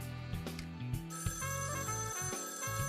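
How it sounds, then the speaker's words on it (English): A telephone rings in the video game Raidou Kuzunoha vs King Abaddon, with repeated bell-like trills over an in-game musical background, loud and close. "Conveniently timed phone call."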